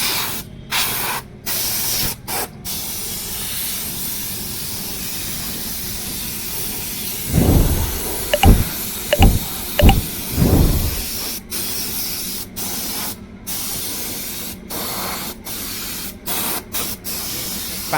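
A Bajaj Pulsar 125 motorcycle is sprayed with diesel during a wash, giving a loud, continuous hiss of spray with several stronger bursts in the middle, up close and with no clear talking.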